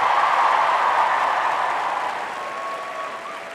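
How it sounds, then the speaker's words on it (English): Broad applause from a school assembly audience rolls on steadily and then gradually fades, many hands clapping together at a fairly loud level. "Everyone, give a special round of applause for this week's"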